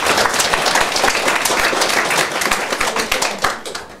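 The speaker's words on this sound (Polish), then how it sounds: "Brawa dla Ościa." A small audience at a book event in a library hall claps for a guest, individual hand claps clearly audible in a lively cluster that thins slightly toward the end.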